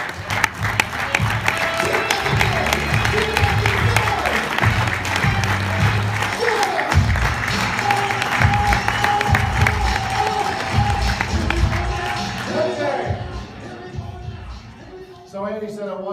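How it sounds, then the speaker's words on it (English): An audience applauds a speaker being introduced at a talk, loud sustained clapping from a crowd with some cheering that fades toward the end. "Ladies and gentlemen, a big round of applause for Mr."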